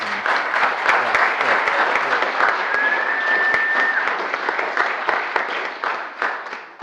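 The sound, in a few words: applause honoring the health district members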